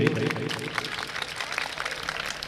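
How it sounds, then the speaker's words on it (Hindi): Audience applause during a flower garlanding, a crowd clapping in a steady, moderately loud patter with voices mixed in at the start. "तालियां बजाइए"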